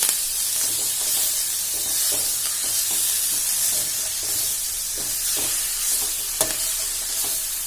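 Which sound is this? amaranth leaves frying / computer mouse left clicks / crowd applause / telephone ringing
amaranth leaves frying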